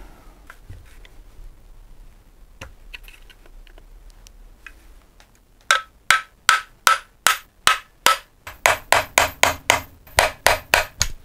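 Tool tapping to pinch back fasteners on a Henry vacuum cleaner motor: a few faint knocks, then a rapid run of about twenty sharp, close metallic taps that speed up toward the end.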